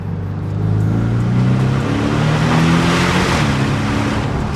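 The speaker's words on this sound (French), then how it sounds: "le flat 4 ronronne" A Porsche Boxster S 718 with its flat-four engine runs at a steady, loud, close hum with a low rumbling drone that swells slightly, no voices over it.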